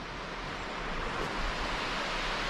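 Birthi waterfall in Pithoragarh roars as a steady, dense broadband rush of falling water, constant and loud throughout with no other sounds.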